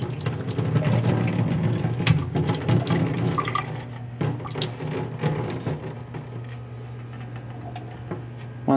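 Water drains and splashes out of a PC water-cooling radiator, a busy liquid gurgle that is louder at first and then thins to a quieter steady trickle.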